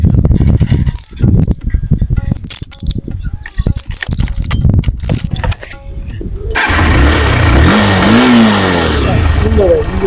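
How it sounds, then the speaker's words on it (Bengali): A used car's engine cranks and starts, then revs with rising and falling pitch, loud and close. People talk over the noise before the engine catches. "গাড়ির চাবিটা একটু দেন তো, ইঞ্জিনের সাউন্ডটা শুনি কেমন"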